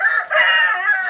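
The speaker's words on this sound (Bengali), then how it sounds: "এই যে ফার্মি মোরগটা" A farm-bred rooster crows once, close and loud, a sustained harmonic call filling the brief moment with no other sound over it.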